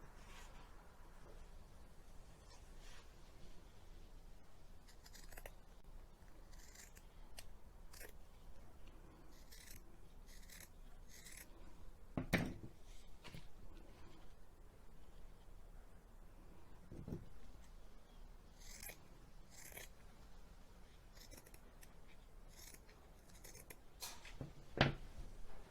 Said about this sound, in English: you can cut out squares like this out of Hessian